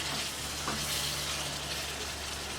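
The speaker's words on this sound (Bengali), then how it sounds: "একটু নেড়ে চেড়ে আলুটা কষাবো" Cubed potatoes sauté with spices in oil for chickpea bhuna, a dense continuous sizzle with a faint steady hum beneath it and no clear stirring strokes.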